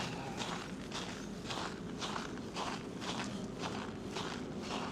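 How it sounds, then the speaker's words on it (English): Footsteps crunching on fresh snow in Blackpool, a steady walking rhythm of crisp crunches, about two per second, close and moderately quiet with no talk. "hear that nice crisp noise coming from my footsteps"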